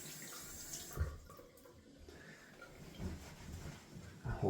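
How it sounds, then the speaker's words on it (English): Water runs steadily from a tap, rinsing suds off the top of a shaving soap puck in a tub, a soft, continuous close splashing with a few louder spatters. "I like to rinse off most of the suds from the top of my soap"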